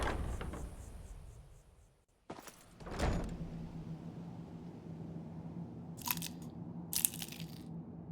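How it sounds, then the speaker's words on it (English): Eating a spring roll in the fantasy game Skyrim: a loud, close crunch sounds once, followed by quieter chewing crunches and a couple of later clicks over a low steady hum. "There's a pretty loud crunch"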